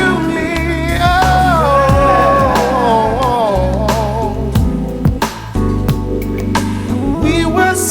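Indie song playing loud and full, with sung vocals over a dense band mix of guitars, bass and drums, continuous throughout.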